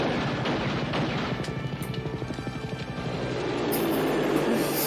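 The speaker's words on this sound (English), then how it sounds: "He's just shooting at the helicopter." A helicopter in an action scene from the film Lethal Weapon, its rotor chopping in a rapid rhythmic pulse that dominates the middle and then fades into a wider roar, fairly loud and close.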